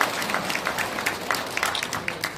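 Audience at a Korean Democratic Party political event claps steadily in a dense, even burst of applause lasting the whole moment, close and full with no voices on top.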